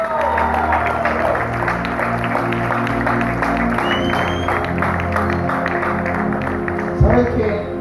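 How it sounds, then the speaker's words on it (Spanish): A church congregation applauds throughout, steady clapping mixed with crowd murmur and voices, with a sharper burst near the end. "aplauda a Dios si tú quieres"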